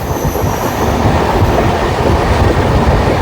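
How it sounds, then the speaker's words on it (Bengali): A Humsafar Express running between Sealdah and Jalpaiguri makes a loud, continuous rumble and rattle of wheels on the tracks, close and steady throughout, with no talk. "এইটাই হলো ট্রেন জার্নি বাবু"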